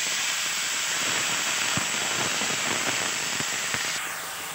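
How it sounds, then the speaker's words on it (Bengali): Washed bottle gourd pieces dropped into a hot cooking pot, setting off a loud, steady sizzling hiss with scattered crackles and pops that eases off slightly at the end; no talk. "ধুয়ে রাখা সেগুলো লাউগুলো দিয়ে দেবো।"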